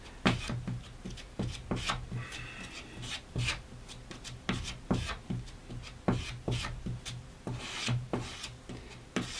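Two-part resin filler is stirred and scraped together with a spatula, giving repeated short rubbing and rasping strokes in a steady uneven rhythm, close and fairly loud with no talking.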